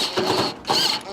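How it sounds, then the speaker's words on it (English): A screw being driven back into a Whirlpool stove's broil element, heard as two short mechanical whirring bursts close by, separated by a brief pause. "line it up, and reinstall our second screw"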